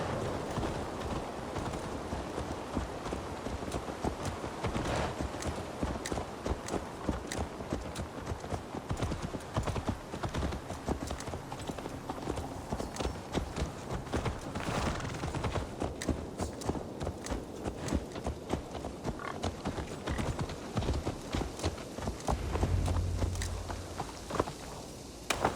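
A horse clip-clops at a steady walking pace in Assassin's Creed Valhalla, close rhythmic hoofbeats continuing throughout with faint ambient game sound underneath.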